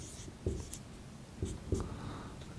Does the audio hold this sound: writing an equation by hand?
yes